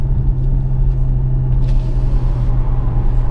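Mercedes GLA45S AMG engine in Sport Plus mode, a steady low rumbling drone held at a constant level throughout, with no clear revs or pops standing out.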